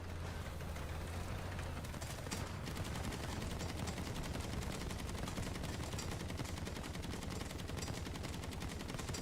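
Rapid 50 cal machine gun fire from a War Thunder tank game aimed at an enemy turret, a dense continuous stream of loud shots over heavy engine rumble throughout.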